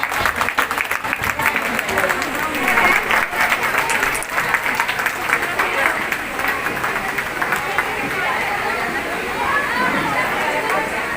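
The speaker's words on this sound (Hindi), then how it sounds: "प्लीज जोरदार तालियों से इनका मनोबल बढ़ाएं।" Audience at a women's day event applauds a prize winner, dense clapping mixed with crowd chatter and voices, loud at first and gradually thinning toward the end.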